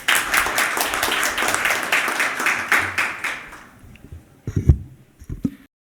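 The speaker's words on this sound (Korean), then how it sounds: "박수로 맞이해 주시기 바랍니다." Applause welcoming a National Assembly member to the stage at a meeting on access to medicine safety information, several seconds of brisk clapping that dies away into a few scattered handling knocks.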